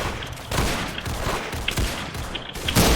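Pistol fire in the video game Arsenal comes as a rapid burst of loud, sharp shots, dense and close, ending in a heavier blast with no talking over it.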